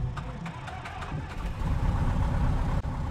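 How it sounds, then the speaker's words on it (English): A light aircraft's propeller engine in a flight simulator game cranks and catches into a steady low rumble that swells louder about halfway through, with no voices over it. "let's start the engine and go flying"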